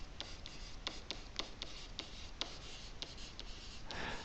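A pen writes geometry notes with quick, close scratchy strokes in an irregular rhythm, soft and alone with no talking, ending in a longer smooth stroke.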